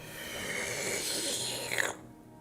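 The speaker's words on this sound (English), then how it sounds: "Inhale." A long, deep inhale through the nose during a breathing exercise, a steady airy breath that swells over about two seconds before stopping abruptly, heard close up with no talking.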